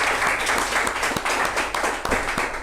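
A classroom group of teachers and students applauds a presenting group, a dense burst of many hands clapping close by, sustained and lively throughout.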